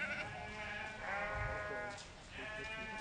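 Sheep grazing on steep mountainsides in Idaho backcountry bleat in several overlapping, wavering cries. The calls sound moderately distant, with a faint low rumble underneath.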